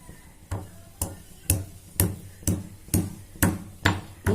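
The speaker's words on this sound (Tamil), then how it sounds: "அடுத்து பார்த்தீங்கன்னா இஞ்சியை தட்ட போகிறேன்" Ginger being pounded for a homemade cough, cold and fever kasayam, struck in a steady series of nine sharp, loud thuds about half a second apart, close by with no talk.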